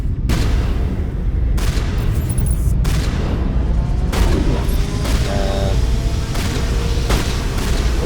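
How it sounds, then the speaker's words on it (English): Sniper rifle loaded with high explosive rounds firing in Mass Effect Legendary Edition, about eight loud booming blasts spaced roughly a second apart, each shot trailed by a rumbling explosion over continuous dense battle noise. "For my sniper rifle, I should mention, I'm using high explosive rounds. They've got a blast radius."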